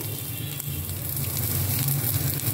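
Coconut pieces and urad dal fry in a hot pan of oil, giving a steady, close sizzle with a faint crackle that swells slightly toward the end, with no one speaking.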